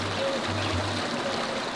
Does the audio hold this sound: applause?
no